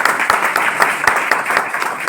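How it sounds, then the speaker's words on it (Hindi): Audience in a group seminar hall bursts into loud, dense applause, many hands clapping at once with sharper individual claps punctuating the steady roar, close and sustained. "चलिए, जोरदार तालियां बजा दो।"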